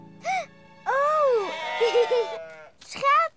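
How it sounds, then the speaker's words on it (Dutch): Cartoon sheep bleat outside in a Miffy episode, several wavering bleats in quick succession, clear and close, mixed with other cartoon voices. "Er staan schapen buiten!"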